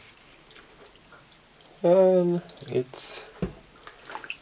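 Water is poured from a container over trays of pea microgreens in a short gurgling burst of under a second, followed by a few faint drips and light handling sounds, with a brief spoken word.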